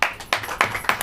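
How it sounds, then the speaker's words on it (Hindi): During a church sermon, the audience claps in a steady rhythm of four crisp, evenly spaced claps within a second. "ताली बजाओ।"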